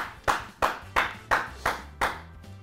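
A studio audience on a Punjabi talk show claps six crisp, evenly paced times, close and distinct, over a low background hum.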